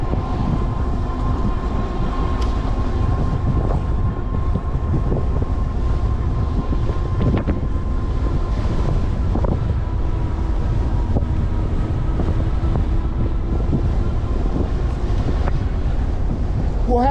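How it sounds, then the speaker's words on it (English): Strong southwest wind at roughly 25 to 28 mph buffeting the microphone during an e-bike ride, a loud constant low roar and rumble with gusting texture throughout. "these winds are probably 25 to 28 mile an hour coming out of the southwest"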